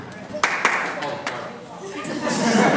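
Scattered clapping breaks out from a band banquet audience, with a few sharp claps near the start and then light chatter and murmuring voices in the room.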